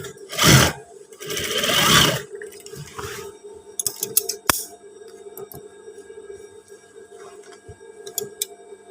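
A sewing machine stitching trousers runs in two short, loud mechanical bursts, then gives way to scattered clicks and small taps from handling the fabric.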